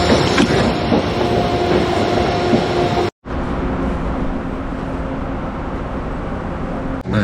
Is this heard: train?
yes